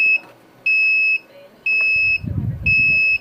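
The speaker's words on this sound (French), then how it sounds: "Il y a déjà une première alarme qui a été franchie à 360 degrés Celsius" A Preciva 929D V desoldering pump's temperature alarm sounds four evenly spaced high electronic beeps, each about half a second long, loud and close, with a brief low rustle between beeps.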